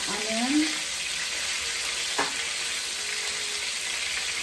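Onions frying in a pan for chicken cacciatore, a steady close hiss of sizzling with a faint clink partway through.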